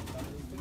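Pigeons belonging to a pigeon fancier coo softly in short low throaty murmurs, close by and faint, with a voice briefly audible underneath.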